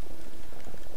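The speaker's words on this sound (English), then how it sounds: "I hear water." Running water from a shower in The Crooked Man video game, a steady bubbling gush heard alone for a brief moment.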